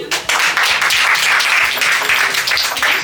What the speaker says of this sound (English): Guys, clap for him.